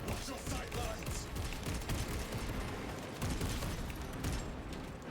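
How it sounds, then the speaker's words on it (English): Gunfire from a Venom cannon in Warhammer 40,000: Space Marine 2, a dense, sustained rattle of shots with heavy low booms running through the whole stretch amid busy battle noise. "I guess that's supposed to be a Venom cannon"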